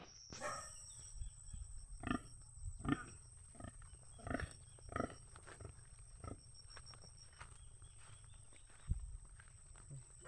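Several low grunts from a pig come in irregular bursts, close by, with quiet shuffling and faint background noise between them.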